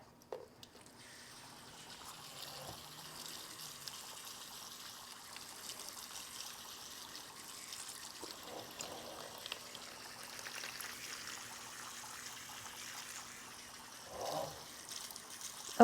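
Dusty lava rock being rinsed under running water, a steady faint trickle and splash of water that runs on throughout, with a few louder gushes.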